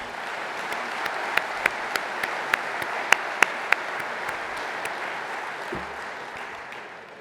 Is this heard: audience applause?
yes